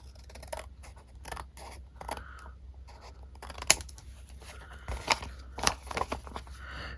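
Scissors trimming a paper craft piece: quiet, close snips and crisp paper rustles coming in irregular bursts, with a few sharper cuts toward the end.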